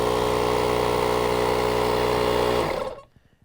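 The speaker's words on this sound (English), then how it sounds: "So now to turn the air compressor on," Portable jump starter with a built-in air compressor runs steadily with a loud, continuous mechanical drone and motor hum, then winds down and cuts off near the end, leaving near silence.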